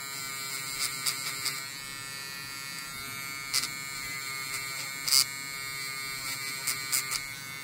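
A Bucasso cordless pen sander works on a plastic hobby piece with a steady, thin, high buzzing whine. Small irregular ticks and taps appear throughout, with no speech.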